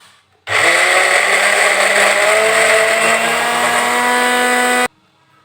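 A blender runs loud and steady for about four seconds, grinding glutinous rice soaked overnight together with coconut, starting and stopping abruptly with no talk over it.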